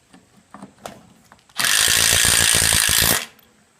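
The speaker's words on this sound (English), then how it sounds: "Insert a screw. And insert another screw." A power drill drives a screw into a metal column cover in one steady, loud whirring burst of about a second and a half, after a few light taps and handling noises.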